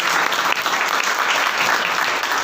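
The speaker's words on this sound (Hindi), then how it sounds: "क्या बात है, एक बार इनकी भी जोरदार ताली।" A business-plan meeting audience claps loudly and steadily throughout, dense close applause filling the room without a break.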